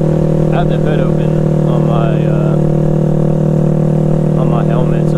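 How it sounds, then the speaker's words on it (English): Steady Honda Grom motorcycle engine drone with a low rumbling exhaust throughout, recorded from the helmet while riding, loud and constant, with a person speaking briefly over it. "I'm pretty sure we're probably going to get some exhaust noise"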